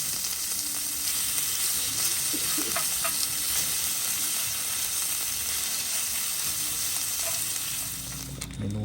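Pork fries in a pan at a campsite, a steady, close, crackling sizzle with a few light stirring taps, fading slightly at the end.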